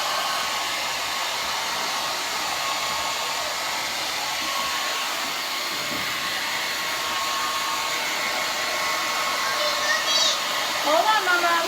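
Handheld blow dryer drying hair, a steady loud whooshing roar held close for the whole stretch, with faint movement near the end and no clear speech.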